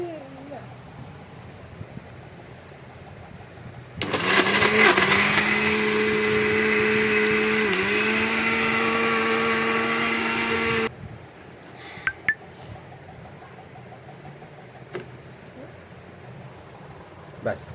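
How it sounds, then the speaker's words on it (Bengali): An electric mixer grinder runs in a home kitchen, a loud, steady high-pitched motor whine lasting about seven seconds with a brief dip in pitch midway, then cutting off abruptly; voices talk before and after. "মিক্সিতে বাটবে আর খেয়ে নেবে।"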